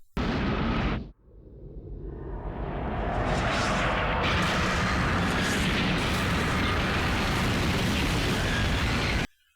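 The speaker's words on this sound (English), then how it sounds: "from orbit, a strike that's like a small nuke, only without the nasty radiation byproduct" A massive cartoon explosion from an orbital strike fired from space: a sharp initial blast, a brief drop, then a long, loud, sustained roaring rumble with crackling debris that holds steady for several seconds before cutting off.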